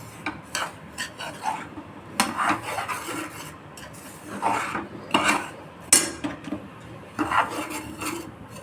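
Semolina being lightly roasted in a pan for instant yogurt idli, with a spoon repeatedly scraping and stirring against the metal in uneven bursts, close and fairly loud, with no one talking.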